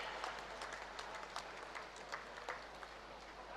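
Faint applause from an audience at a ceremony honouring India's Tokyo Olympic hockey team and support staff, a scattered patter of claps heard from a distance throughout.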